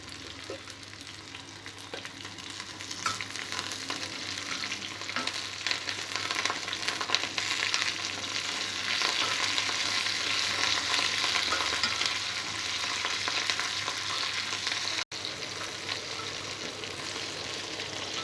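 Green chillies frying in a pan and being stirred for a spicy pachi mirchi pachadi, a steady close sizzle with scraping stirs and no talking.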